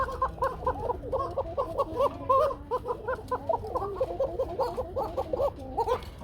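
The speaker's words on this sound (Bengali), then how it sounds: "দেখেন কি পরিমাণ ডাকাডাকি করে কত ছটফটা কবুতর" Pigeons kept in pairs at a farm sale call over and over in quick, bubbling, repeated bursts, a steady chorus of moderately near cooing with little else beneath.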